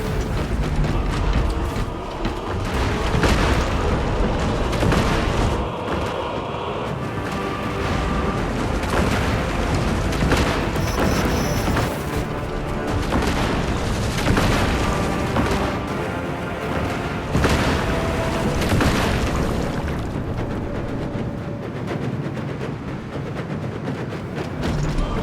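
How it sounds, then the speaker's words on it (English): Titan firing missiles in Warhammer 40k Space Marine 2, a sustained roar of launches, heavy booms and mechanical clanking, loud and continuous throughout with no talking. "Titan launches its missiles."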